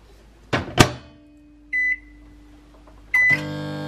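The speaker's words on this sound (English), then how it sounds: "Put it in the microwave." A microwave oven heats a bowl of breakfast oats made with oat milk: a door clunks shut, a steady low hum runs, and two short electronic beeps sound, with another beep near the end.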